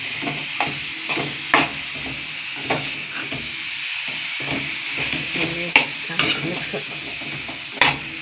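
Agave leaf vegetable is stirred in a hot pan, a continuous sizzle punctuated by a regular series of scraping, knocking spoon strokes, fairly close and loud.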